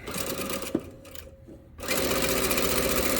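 A sewing machine stitches quilt blocks in a chain-piecing run, its motor buzzing steadily and close, pausing briefly mid-way before resuming at full speed.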